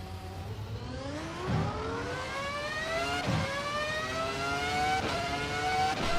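Race car engine in the racing game Assetto Corsa EVO revving up through the gears, with rising engine pitch broken by brief dips at roughly three gear shifts, loud and up close.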